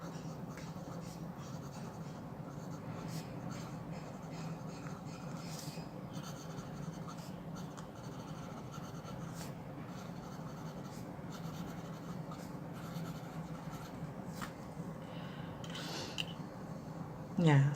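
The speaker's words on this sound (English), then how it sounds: "the scratching sound seems to be louder, but I'll just write again and then we can hear it" Fountain pen nib scratching across paper in a left-handed writing session, a faint, continuous rasping texture of strokes and small scrapes, steady and close throughout.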